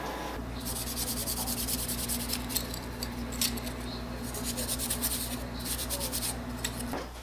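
Plastic parts from a Cooler Master HAF932 case being scuffed by hand, giving a steady, close, raspy rubbing that continues without a break over a constant low electrical hum.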